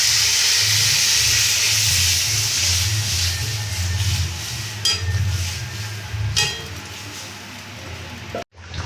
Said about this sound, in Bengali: এবার আমরা সেদ্ধ ডালটা মরে ঢেলে দেবো